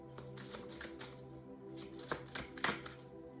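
Tarot cards are shuffled by hand in a run of soft, papery riffles and flicks that peak near the end. The sound is quiet and close over a faint, steady musical tone, with no voices.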